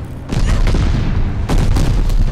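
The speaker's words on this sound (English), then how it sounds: "it's a lot of explosions going" Repeated loud booms from explosions in a multiplayer video game desert siege match, two heavy bursts with continuous rumbling filling the whole stretch.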